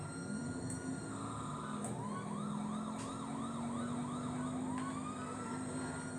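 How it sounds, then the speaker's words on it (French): A wailing electronic police car siren in Grand Theft Auto V cycles up and down continuously alongside a steady engine drone, loud and close, with no talking. "On va mettre les sirènes."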